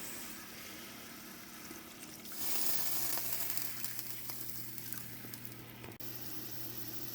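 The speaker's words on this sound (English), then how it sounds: "we have turned the heat up on our sauce and it's reducing down" Balsamic vinegar and wine sauce reducing in a pan over high heat, a steady close bubbling and sizzling hiss that swells louder partway through and keeps going without talk.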